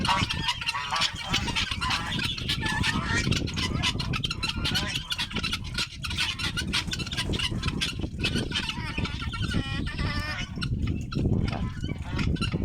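Domestic poultry in a village yard, with chickens, turkeys, guinea fowl and geese, fill the scene with dense, continuous honking, clucking and calling that stays loud and close throughout, with no pauses.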